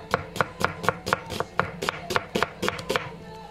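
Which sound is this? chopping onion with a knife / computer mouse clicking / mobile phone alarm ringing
chopping onion with a knife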